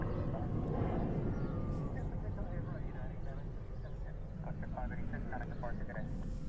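A Boeing 777 jet airliner preparing for departure at Honolulu airport gives a steady, loud, broadband engine roar with a low rumble, continuous throughout, while voices talk over it.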